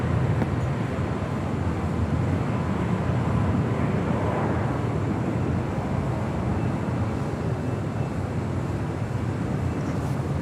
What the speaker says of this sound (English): Air Mexico Dreamliner